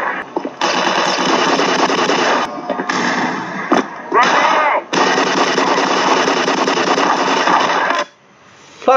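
Gunfire and explosions from the video game Black Mesa, dense rapid automatic fire running nearly continuously with short breaks and loud blasts, close and dominant.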